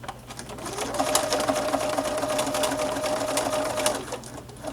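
Sewing machine stitching through a backpack, the Eberlestock Battleship pack, with a steady close whirring run of rapid needle strokes lasting about three seconds, starting and stopping cleanly.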